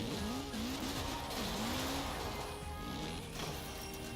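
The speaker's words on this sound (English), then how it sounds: "this low rumble at slow speeds is almost identical to real life. You can hear this turbo spool up crazy" A Mitsubishi Evo X with a 600-horsepower all-wheel-drive build in Forza Horizon 4 gives a steady, loud engine drone with a rising and falling whine, continuous throughout.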